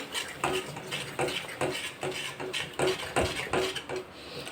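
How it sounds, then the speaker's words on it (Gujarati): A spoon stirs a yogurt mixture into a Kathiyawadi-style dum aloo gravy, with soft, regular scrapes and clinks against the pan about every half second, close up and quiet. "અને તરત જ હલાવવાનું છે ચમચાથી."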